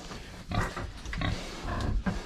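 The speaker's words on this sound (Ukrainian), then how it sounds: "Це наші кабанери." Several young boars on a farm grunt and snort continuously at close range, overlapping low rumbling grunts in a busy, steady chorus.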